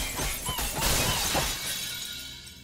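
An object shatters in the PS5 game Astro's Playroom, a loud crisp breaking burst with scattering fragment sounds that trail off over about two seconds amid game background noise.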